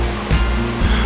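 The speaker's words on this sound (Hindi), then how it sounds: "ये जोरोगो वाटरफॉल का पानी है" Water of Jarogo Waterfall in Swat, Pakistan rushing over rocks with fallen trees from a landslide, a loud, close, continuous roaring wash with slight surges, heard alone.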